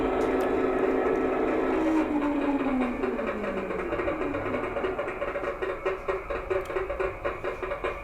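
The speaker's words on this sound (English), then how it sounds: "So what we're hearing now is the Spirax valves." A steady mechanical hiss and hum from a Hattons Class 66 model locomotive's digital sound, engine off, with a falling tone early on, then a rhythmic pulsing chuff of Spirax valves repeating faster toward the end.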